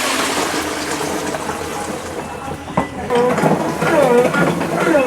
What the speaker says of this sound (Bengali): এবার চাশনিটাকে ঢেলে দেওয়া হচ্ছে ট্যাঙ্কের ভিতরে